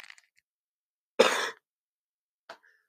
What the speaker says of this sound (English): I've been coughing all day. I'm gonna cough and get again